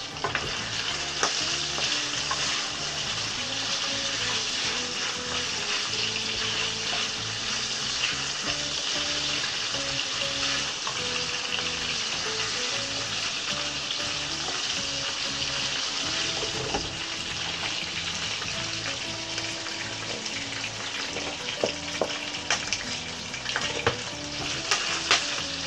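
Pinakbet ingredients frying in a pan, with a steady, loud sizzle and crackle that runs unbroken throughout and some stirring and scraping mixed in.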